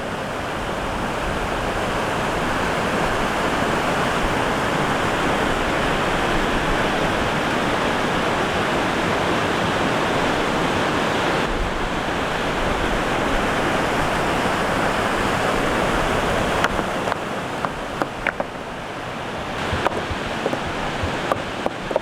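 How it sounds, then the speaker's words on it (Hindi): Ganga river rushing at Gangotri, a loud, steady broadband roar of fast-flowing water that continues unbroken and close by, with a few faint clicks and knocks near the end. "तो थोड़ा नदी का प्रवाह है"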